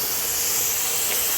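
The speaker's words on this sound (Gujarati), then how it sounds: "થોડી વારમાં કડાઈમાં જોઈએ તો કડાઈમાં ઉમેરેલું પાણી સરસ ઉકળી ગયું છે." Water coming to a boil in a kadai while cooking Gujarati dal bhaat, heard as a steady, even hiss and bubbling steam throughout, with no talk over it.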